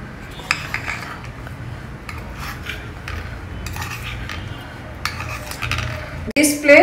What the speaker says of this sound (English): Just remove the idlis with a spoon like this